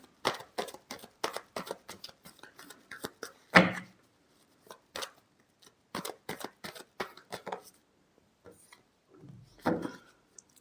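Tarot cards being shuffled by hand, a series of quick, crisp riffles and slaps close by, coming in irregular bursts with short silent gaps between them.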